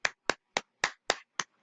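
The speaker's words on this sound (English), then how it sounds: "Give a round of applause." Six sharp, close hand claps ring out on their own at a slow, even pace, each one dry and short.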